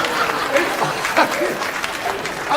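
An audience at a stand-up comedy show claps in a dense, steady burst of applause, with some chatter mixed in.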